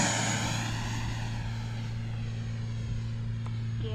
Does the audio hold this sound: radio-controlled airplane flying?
yes